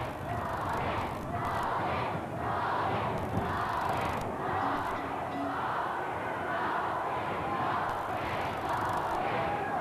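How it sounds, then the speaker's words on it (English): A capacity arena crowd at a 1986 WWF wrestling event chants in a steady two-beat rhythm, the massed voices swelling and repeating for about ten seconds, loud and reverberant. "Again, it's capacity crowd chanting Hogan"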